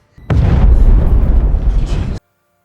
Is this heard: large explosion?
yes